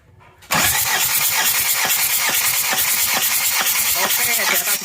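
A Daihatsu Rocky engine with heavy black exhaust smoke and weak power cranks on the starter and catches, then runs with a loud, steady rough idle for several seconds, close to the microphone.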